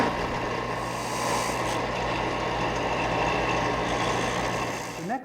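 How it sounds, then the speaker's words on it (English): Woodworking disc sander touching up a wooden piece for a Mission-style bed, a steady motor drone with gritty abrasive noise, close and alone, ending with a short squeal as it winds down. "And now for a little touch-up work here on the disc sander."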